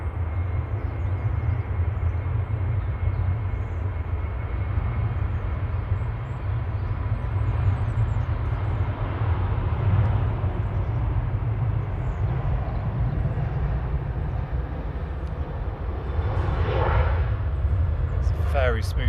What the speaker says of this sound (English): Very smooth landing there from Ryanair